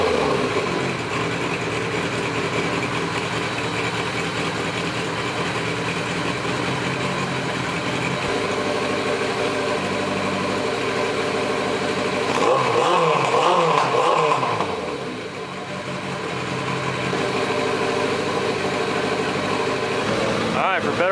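A Suzuki GS850 motorcycle engine idles under a rebuild with ignition points, a steady close mechanical drone that swells briefly with a revving blip midway before settling back.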